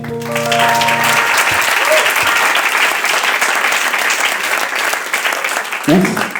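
Sustained audience applause fills a literary reading event in Santa Coloma de Farners, a dense steady clapping crowd lasting several seconds; a voice speaks briefly at the start over musical tones, and another voice cuts in near the end.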